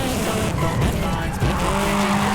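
A Toyota AE86 Trueno in the Forza Horizon 5 video game brakes hard on a downhill run, its tires squealing loudly and continuously over a steady engine drone, with skids rising and falling in pitch.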